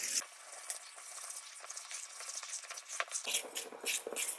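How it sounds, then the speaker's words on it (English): A fork stirs milk, egg, butter and yeast into dough, giving soft scraping and clicking strokes that run steadily, then turn brisker and louder toward the end. "We'll start to incorporate this by using a fork, starting from the inside out"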